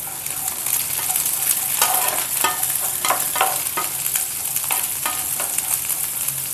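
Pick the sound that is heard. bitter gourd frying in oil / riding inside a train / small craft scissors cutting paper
bitter gourd frying in oil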